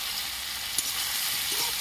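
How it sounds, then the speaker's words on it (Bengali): Vegetables with lentil dumplings (bori) sizzle steadily in a hot pan, a soft continuous frying hiss with a faint clink of a utensil. "ভালো করে একটু কষিয়ে নেব"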